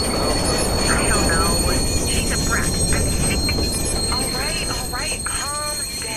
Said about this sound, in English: And of course the train's gonna go by.